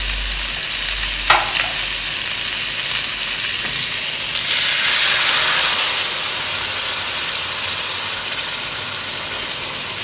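Blended sauce poured into chicken frying in a pot, setting off a loud, steady sizzle and hiss that swells midway as the liquid hits the hot pan, with a brief stirring scrape near the start.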